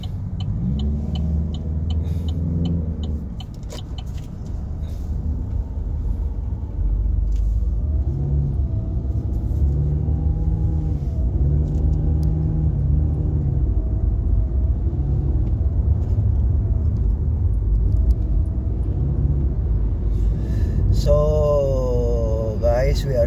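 A big lorry truck rumbles past on a road, its deep engine drone swelling and holding steady close by, heard from inside a moving car along with engine tones and a rising whine near the end.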